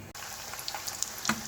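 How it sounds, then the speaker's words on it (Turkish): Steady oily sizzling of meatballs frying in a pan, with small crackles and pops scattered throughout, close by and moderately loud. "köftelerimizi tavamıza alıyoruz ve köftelerimizi kızartıyoruz"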